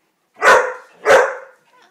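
Two loud barks from a nearby dog, about half a second apart, each trailing off slightly, with no talking.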